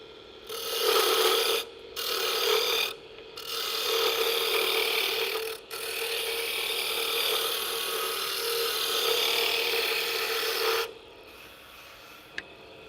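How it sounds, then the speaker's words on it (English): A hand tool shaves wood into small curls, giving steady, close rasping strokes, several long passes separated by brief pauses, then stopping near the end. "the rest of you don't need to see me just making these little shavings over and over and over again"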